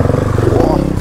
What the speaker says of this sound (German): Maurice haut erstmal einen schönen Circle Wheelie hier raus